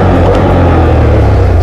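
Can-Am Outlander 1000R 2025 ATV with stock exhaust, running in neutral: a loud, steady, close engine drone with heavy low rumble, held at a constant pitch.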